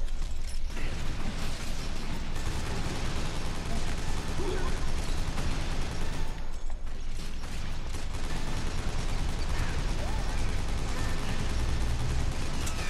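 Video game gunfire, dense, continuous rattling shots and mechanical clatter filling the scene with a brief lull midway, with voices talking over it at times.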